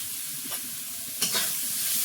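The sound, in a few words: spices being fried and stirred in a pan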